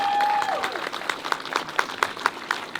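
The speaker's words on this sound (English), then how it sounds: "Hey, round of applause, ladies and gentlemen," Crowd at a UK drift championship finale at Snetterton applauding the podium, with scattered claps and cheers swelling in a row of sharp peaks over a loud, dense outdoor din.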